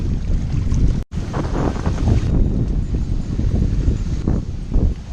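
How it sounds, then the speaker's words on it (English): Strong wind buffets the microphone on open water at a fishing spot, a loud, constant roaring rush with gusty swells and one brief dropout. "This wind is brutal."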